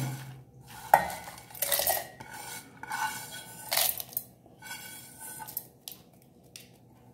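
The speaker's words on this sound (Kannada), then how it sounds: "ಮಿಕ್ಸಿ ಜಾರಿಗೆ ಹಾಕ್ಕೊಳ್ತಾ ಇದ್ದೇನೆ." Chutney ingredients go into a mixer grinder jar with scattered clinks, taps and scrapes of a spoon against the jar and vessels, close and intermittent with quiet gaps between.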